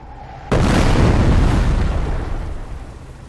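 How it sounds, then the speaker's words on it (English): Incendiary mortar barrage from a half-track in Company of Heroes, heard as one loud sudden blast that rolls into a long, dense rumble of burning and crackling, slowly fading and never stopping. "Order the mortar half-track to fire an incendiary barrage at the enemy infantry squad."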